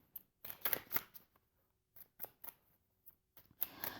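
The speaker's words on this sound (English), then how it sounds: "we're going to start with shuffling" Crisp papery riffling and flicking of a deck of tarot cards being shuffled, in short irregular bursts with quiet gaps between, close by.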